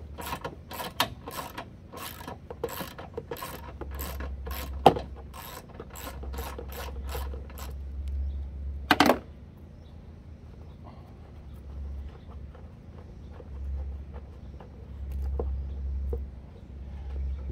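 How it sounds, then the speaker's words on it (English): Worn lawn mower deck spindle giving a rapid clicking, ratcheting mechanical noise with a low hum beneath, the clicks fading out midway and leaving a quieter rumble and occasional knocks. "Generally, you'll know if the spindle's on its way out, they make a lot of noise, and this one's been making noise for a while."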